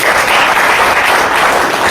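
An audience at a company promotional gathering applauds loudly and continuously, a close, dense wash of clapping with no pause.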